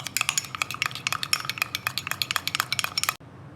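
A spoon clinks rapidly and rhythmically against a bowl while mixing a flour and ghee batter, with dozens of sharp, close taps that stop abruptly near the end.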